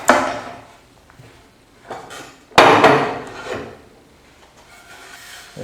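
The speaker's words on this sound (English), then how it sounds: "Take all the clamps off." Clamps being taken off freshly glued narrow wooden boards: a few sharp knocks and clunks of metal clamps against wood, spaced apart with quiet gaps, close by and fairly loud.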